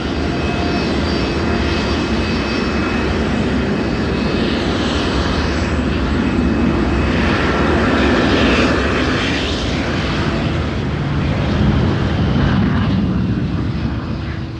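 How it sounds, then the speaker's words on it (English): An airplane at Heathrow airport roars steadily and loudly, a broad engine drone that swells slightly and holds without a break, with no voices. "a plane is either taking off or landing every 30 seconds"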